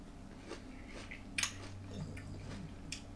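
Someone chews breakfast cereal close up with soft crunches and wet mashing in an uneven rhythm, one sharper bite in the middle, quiet throughout.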